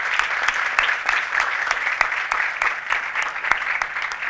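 An audience claps for a group of children, a steady, dense round of applause with a few sharper individual claps standing out, close and continuous throughout.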